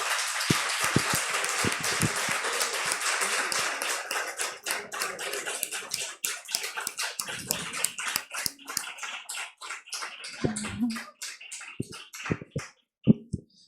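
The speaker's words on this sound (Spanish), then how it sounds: "quisiera pedir un gran aplauso para Rosa, por favor." An audience at a debate on psychopathy gives a big round of applause, dense clapping that starts full and loud, then thins into scattered individual claps and fades to a few last hand claps near the end.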